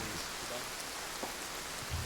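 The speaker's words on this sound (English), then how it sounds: "It's rain going down" Steady rain pours down outdoors during a patrol in Chechnya, a dense, continuous hiss of drops on surfaces that sounds close and fairly soft, with no other clear sounds standing out.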